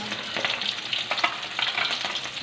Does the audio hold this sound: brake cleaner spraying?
no